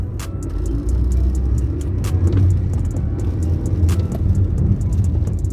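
A Honda City Type Z engine on kickdown drones steadily at close range with a deep, continuous rumble and faint ticking clicks over it.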